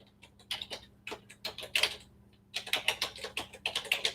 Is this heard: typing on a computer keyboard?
yes